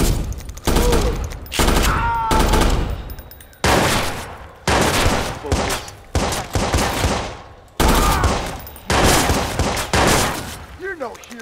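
Bursts of rapid gunfire in a Watch Dogs firefight, several loud volleys separated by short gaps, with voices shouting between the shots.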